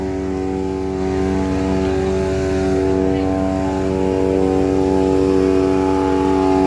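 An engine-driven pump draws water from a canal at night during a rescue operation against a wildfire near a hillside, producing a loud, close, steady engine drone that holds throughout.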